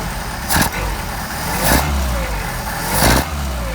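A Mercedes 190SL with Solex carburetors idles steadily up close, the engine's loud, even rumble rising in three brief swells as the carburetor adjustment changes the idle.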